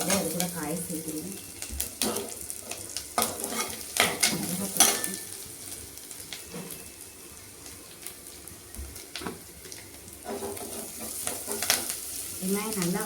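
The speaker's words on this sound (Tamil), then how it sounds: "வெங்காயம் நல்லா வதங்கிடுச்சு." Onions sautéing in a pan crackle and sizzle up close, with repeated scraping stirs of a spoon and a bit of running water in the background.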